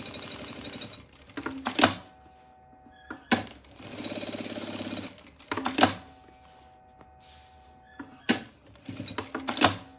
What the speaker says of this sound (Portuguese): Fazendo essa costura bem na beiradinha.